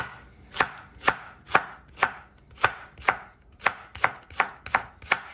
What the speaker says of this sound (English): All right, and then I am slicing this.